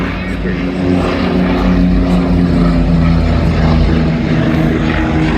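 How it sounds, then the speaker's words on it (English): A propeller plane flies over an outdoor concours car show, a loud, steady engine drone filling the whole stretch, with faint voices nearby. "Here comes a plane. The plane! The plane!"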